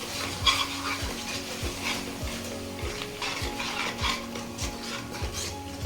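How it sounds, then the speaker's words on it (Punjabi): Turmeric, salt and Kashmiri chilli are stirred and roasted in a pan for baingan bharta, a close, regular scrape of the spoon against the pan about every half second over a low sizzle. "ਆਪਾਂ ਹਲਦੀ ਨੂੰ ਤੇ ਨਮਕ ਨੂੰ ਤੇ ਮਿਰਚ ਨੂੰ ਚੰਗੀ ਤਰ੍ਹਾਂ ਭੁੰਨਣਾ"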